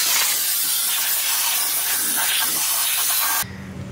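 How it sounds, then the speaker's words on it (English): Compressed air blasts steadily into the primary and secondary clutches of a Maverick X3 to clear out dust, a loud continuous hiss that holds for over three seconds and then cuts off abruptly. "we're gonna blow out the primary and the secondary clutch with a little bit of air"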